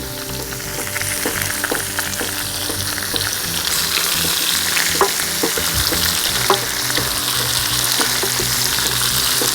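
Pork belly and sausages fry with potatoes in a hot pan, a loud continuous sizzle broken by frequent sharp scrapes and clinks of stirring, with no talking.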